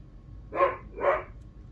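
A dog gives two muffled barks, evenly spaced and somewhat distant, against a quiet low background hum.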